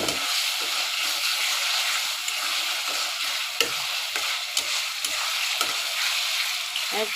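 Minced meat fries in a pan with soy sauce, giving a steady, close sizzle broken by occasional scraping stirs.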